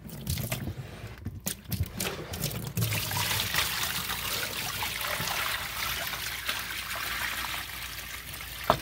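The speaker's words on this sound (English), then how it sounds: "I'm going to let that drain down a little bit." Water drains down a sink after rinsing carrots, a steady trickling gurgle that starts with a few splashy bursts and then settles into a continuous close flow.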